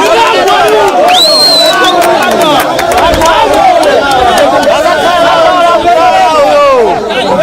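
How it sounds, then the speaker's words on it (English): Angry mob gathered at a police station demanding justice, a loud dense roar of many shouting voices, close and continuous with overlapping yells throughout. "tensions escalated when an angry mob gathered at the station demanding immediate"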